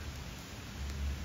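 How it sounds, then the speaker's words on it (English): Steady soft rain falls outside a house during a summer storm, a continuous hiss of drops close by and low rumbling underneath, with no voices. "it is raining again"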